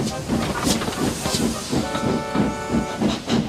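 A steam engine chuffs in a steady rhythmic beat with hissing steam, while a faint whistle-like tone hums through the second half.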